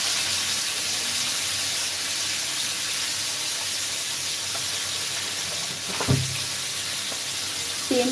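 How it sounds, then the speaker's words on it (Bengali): Fish frying in a pan, a steady hiss of hot oil with a brief louder crackle and clatter near the end, close and alone without talk. "সেই মাছটা একটু আগে ভাজি করে নিই"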